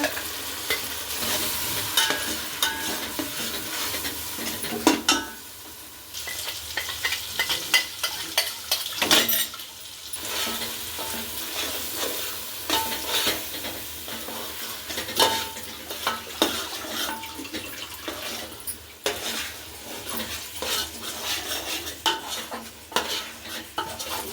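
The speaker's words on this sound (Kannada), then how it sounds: "ಇದು 5 to 10 ಮಿನಿಟ್ಸು ಹಿಂಗೆ ಹುರ್ಕೊತಾನೆ ಇರಬೇಕು." A thick ground masala paste for biryani frying in hot oil, sizzling steadily while a spoon scrapes and stirs around the pan in repeated strokes, close by, with no talking.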